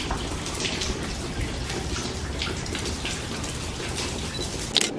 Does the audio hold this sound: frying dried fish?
no